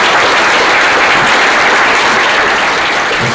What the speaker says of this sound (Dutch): Ik zou het wel leuk vinden om vast een applaus te geven